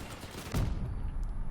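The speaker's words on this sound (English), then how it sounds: "Oh, that's a cannon." A vehicle-mounted cannon fires in the video game Crossout, a sharp heavy boom close by amid ongoing rumbling combat noise, with quick follow-up blasts.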